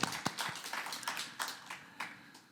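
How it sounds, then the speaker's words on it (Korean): A church congregation at a jubilee gathering claps, producing faint scattered claps at irregular intervals over a quiet background. "우리 하나님께 영광의 박수 올려드립시다"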